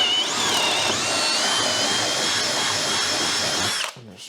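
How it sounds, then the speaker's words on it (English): Hand drill boring holes through wood while building a compound lever press, a loud, steady whirring drone that runs for about four seconds and then cuts off abruptly. "I'm just going to drill this out by hand"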